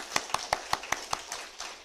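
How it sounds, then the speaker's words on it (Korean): A church congregation at a Sunday morning service claps in unison, about seven sharp, evenly spaced claps in a steady rhythm, loud and clear, then a softer scattered patter at the end. "여러분 잠도 깰 거면 한번 박수 한번 쳐보겠습니다."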